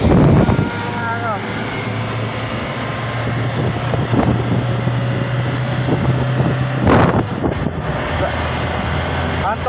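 An Isuzu truck engine runs hard in a sustained, loud drone with harmonics that shift at the start. Wind buffets the microphone, and people talk over the engine.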